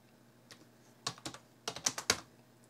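Keys clack on a Digital VT220 terminal keyboard as a command is typed, a few sparse taps followed by a quick close burst of keystrokes in a quiet room.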